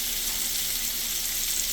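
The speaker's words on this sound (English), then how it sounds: "Look at that sizzle." Constant, dense crackling sizzle of food frying in a hot pan, loud and close, with no pauses.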